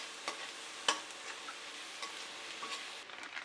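Onion and garlic with salt sauté in a pan, giving a gentle steady sizzle marked by a few sharp spatula taps and stirring scrapes.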